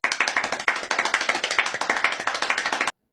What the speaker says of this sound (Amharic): አጨብጭቡ